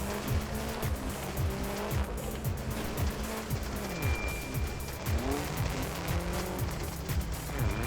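A custom-built sports car in Trailmakers roars along with its engine pitch repeatedly climbing and dropping through gear changes while its tires squeal in loud, sustained bursts, close and constant.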